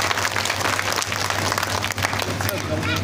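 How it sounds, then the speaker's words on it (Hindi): An audience applauds during an Independence Day poetry recital, a dense burst of clapping filling the hall, loud and continuous with some crowd murmur. "ताली बजाइएगा।"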